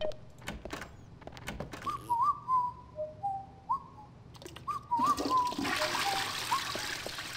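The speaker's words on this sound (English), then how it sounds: "let's just wash our hands." Hands washed under a running tap in The Ship video game: a steady splashing water stream swells in the second half, with short whistled bird-like tones drifting over it.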